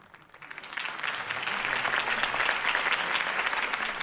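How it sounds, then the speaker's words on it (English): A crowd applauds after a campaign speech in the Batman Telltale Series game, the clapping rising quickly from quiet to a dense, sustained ovation that holds loud and steady to the end, with no talk over it. "If only Mr. Wayne, my campaign's largest backer, could have heard that applause"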